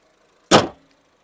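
A 2011 Honda Jazz 1.4 bonnet slammed shut, one loud solid thump with a short metallic ring that fades fast in an otherwise quiet spot.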